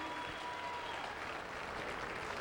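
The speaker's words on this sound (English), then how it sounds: "The crowd appreciating the effort, the crowd cheering them on." A large crowd at the 2010 CrossFit Games cheers and applauds after the final heat of a clean and handstand push-up event, a dense, steady wash of clapping and voices heard from within the arena.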